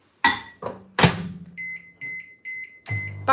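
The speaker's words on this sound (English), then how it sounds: "back in the microwave" A microwave oven has its door thunked shut and its buttons pressed, and a run of short electronic beeps follows, close and clear in a quiet kitchen.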